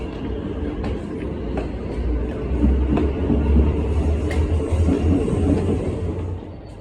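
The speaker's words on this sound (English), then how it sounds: "HCMT is now departing." An HCMT electric suburban train pulls out of a station near Dandenong, a steady loud rumble of motors and wheels that swells and rolls on without pause, with no one speaking.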